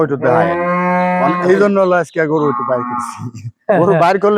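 A dairy cow on a farm moos loudly and close by, a long drawn-out low followed by a few shorter calls.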